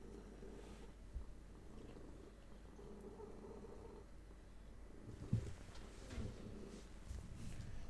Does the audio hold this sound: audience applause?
no